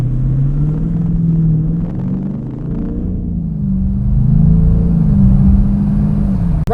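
A 2019 Dodge Challenger 1320 gives a loud, deep, steady engine rumble from inside the car as it pulls gently, the pitch swelling and easing slightly with light throttle and no one talking.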